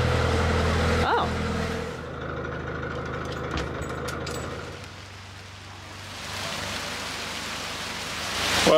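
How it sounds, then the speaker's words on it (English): Sudden heavy rain hissing down around a narrowboat on a canal near a lock, a broad steady wash of noise with an engine rumbling underneath, fading briefly in the middle before building again. "it started chucking it down suddenly"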